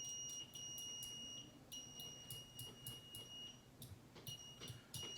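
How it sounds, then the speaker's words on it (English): Continuity buzzer on a Southwire Maintenance Pro Series clamp meter beeping in a rapid, irregular string of short high-pitched chirps with brief gaps, fairly faint and lagging slightly, no talk over it. "It's kind of hard to tell because the buzzer is just dragging behind it."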